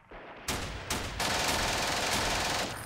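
Light machine gun fire in the Steel Panthers WWII strategy game, loud sustained bursts that start abruptly and build into a continuous dense rattle of gunfire lasting nearly three seconds.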